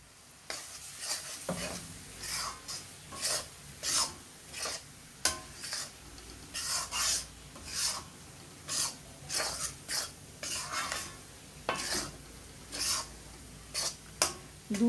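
Roasted gram flour is stirred with milk in a pan, giving repeated rhythmic scraping and stirring strokes with a faint sizzle. The strokes are fairly close and moderately quiet, with no talk.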